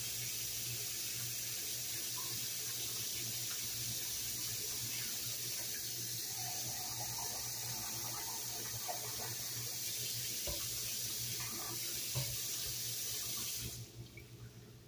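Hot water runs steadily from a tap into a measuring cup for a tomato-puree coney sauce, a constant close splashing hiss that tapers off at the very end.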